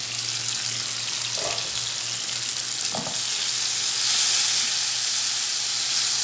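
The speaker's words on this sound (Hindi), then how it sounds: "2 मिनट इसे सौते करूँगी ताकि ये सॉफ्ट हो जाए।" A medium tomato, chopped, sautéing in a pan, with a steady soft sizzle and hiss throughout and a couple of brief stirring scrapes, heard close and alone.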